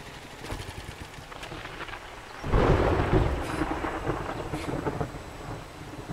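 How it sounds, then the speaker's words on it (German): Game thunderstorm in 7 Days to Die: steady rain hiss with a deep rolling thunder burst around the midpoint that swells loud and then fades back into continuous rainfall. "Gewittergeräusche sind einfach nur gut."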